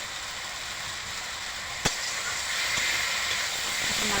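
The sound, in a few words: stirring food sizzling in pan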